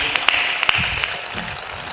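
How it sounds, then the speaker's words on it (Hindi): Brief loud clapping from a seated audience at a spiritual discourse by a sant, a few sharp claps rising out of a dense applause wash that fades slightly toward the end. "जोर से मार दो ताली"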